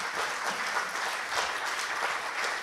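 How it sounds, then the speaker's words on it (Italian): Steady applause from a crowd, dense clapping throughout with no voices standing out. "gli facciamo un bel applauso"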